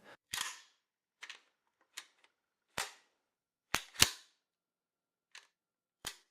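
A shotgun's action is cycled by hand as the elevator rises and feeds a cartridge, making a series of sharp metallic clicks and clacks, about eight distinct snaps spaced irregularly with silence between them, close and crisp.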